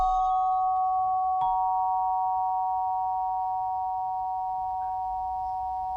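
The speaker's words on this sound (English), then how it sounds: "I took the cello bow and I pulled it on the glockenspiel" Glockenspiel bars bowed with a cello bow give pure, eerie sustained tones that hang steady for several seconds, with one fresh bowed stroke partway through, alone over a faint low rumble.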